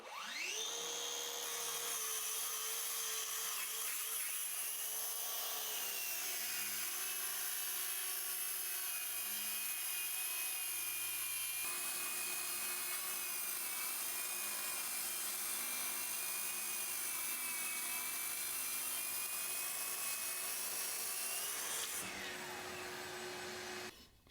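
Ryobi track saw cutting through a board, a loud sustained whining motor spinning up and holding a steady high pitch through the cut, then winding down at the end, with no voices.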